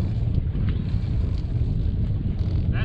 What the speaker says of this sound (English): Winds like this.